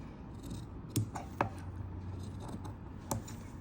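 Scissors make small cuts into cloth along a neck and sleeve shape while stitching, three quiet crisp snips spaced irregularly over a faint room hush, no talking.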